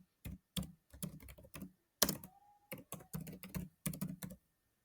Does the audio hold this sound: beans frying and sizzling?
no